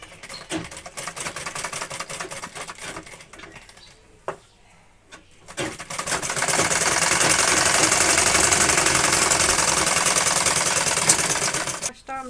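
Sewing machine stitching petticoat fabric, first in short stop-start runs, then a long steady whirring stitch lasting several seconds, close and prominent with someone talking over it.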